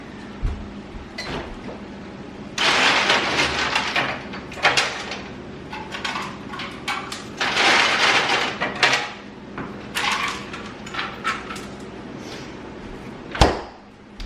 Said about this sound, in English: I'm gonna add some ice over here.